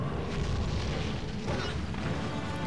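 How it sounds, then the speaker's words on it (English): Bombs blasting in Monster Hunter Tri during a Jhen Mohran fight, a dense stretch of heavy booms and crashing impacts with rumbling low end, loud and continuous throughout. "Upon getting out, immediately set down the bombs."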